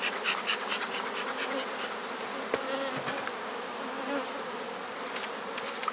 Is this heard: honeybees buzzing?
yes